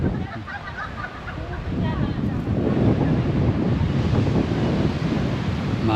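Strong wind buffets the microphone with a steady roar while rough surf churns along the coast at Dingalan, Aurora, a dense, continuous rumble with no clear breaks.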